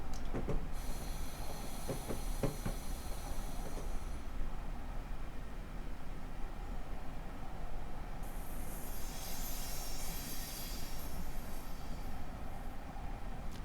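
A train rolling along the track in a rail yard, a steady loud rumble of wheels with high squealing and hissing tones rising and falling, no voices.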